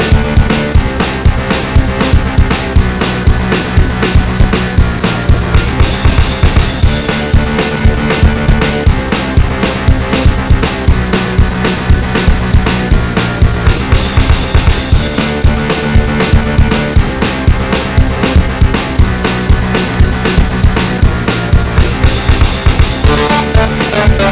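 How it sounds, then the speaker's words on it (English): A dense, loud band mix, with punchy opening drums driving a steady beat under layered instruments, continuous throughout with no talking. "And finally, we add the opening drums"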